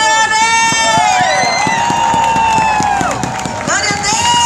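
A crowd at the Marcha pra Jesus gospel event in Bento Gonçalves cheers and claps for a singer, a loud, steady roar mixed with rhythmic clapping under a prominent sustained voice or music.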